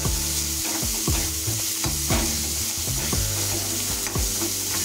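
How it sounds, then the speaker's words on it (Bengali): Chopped onions with a little salt fry in oil in a wok, giving a loud, steady sizzle broken by regular scraping strokes as they are stirred, with no voices. "আমরা প্রায় 3 মিনিট ধরে পেঁয়াজগুলোকে ভাজা করে নিয়েছি"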